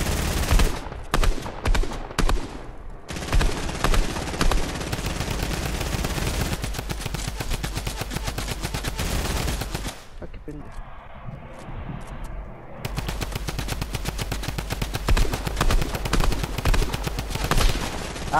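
Rapid bursts of gunfire from a Fortnite match fill most of the stretch, loud and dense like automatic weapons, with a brief quieter gap midway before the shooting resumes.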